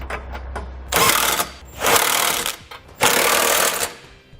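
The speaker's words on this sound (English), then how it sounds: "I'm going to come back with a 3/4-inch socket and snug up all the nuts" A 3/4-inch socket on a power driver snugs up the nuts of a Curt trailer hitch on a 2018 Subaru Forester, heard as three loud, close, rattling bursts of about half a second each with brief pauses between.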